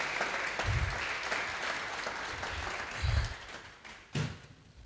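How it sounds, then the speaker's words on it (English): An evening audience at a healthcare startup pitch showcase gives a round of applause for presenters, a broad continuous clapping with a few low thumps partway through, fading toward the end. "Let's give one more round of applause for all of our pitches and presenters this evening."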